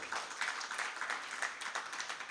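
An audience clapping during a Jain monk's sermon in Nagpur, a brief burst of fairly faint, rhythmic applause from a gathered crowd, with no voices over it.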